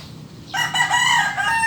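Gilmore Hatch gamecock crowing once close by, a loud drawn-out call that begins about halfway in and lasts to the end.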